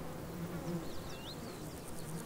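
A spiny mason wasp, the kind that builds its nest in loamy walls, gives a steady low buzzing hum, with thin bird whistles drifting above it.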